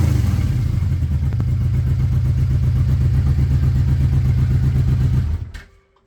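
A 1989 Yamaha VMAX motorcycle engine runs loud and close with a steady throbbing rumble that rises slightly as it accelerates, then cuts off abruptly near the end.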